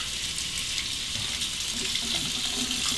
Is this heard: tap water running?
yes